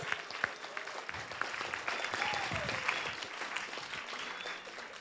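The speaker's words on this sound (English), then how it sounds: "Give them a round of applause again" A room of people applauds teachers at a Carson, California city council meeting, with steady, moderately loud clapping lasting several seconds and a few voices mixed in underneath.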